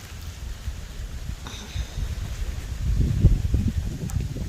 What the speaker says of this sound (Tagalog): Mahangin dito sa Hong Kong ngayon.